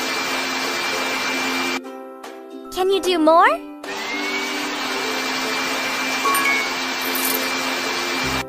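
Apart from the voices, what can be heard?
vacuum cleaner cleaning the floor in a baby care video game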